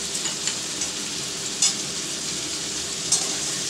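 Ginger paste with turmeric sizzles in a frying pan under a constant hiss, while a spatula stirs it with a couple of sharp scraping clicks.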